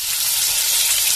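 Food sizzles and crackles steadily in a hot pan, a brief, loud, continuous hiss of frying with no voices over it.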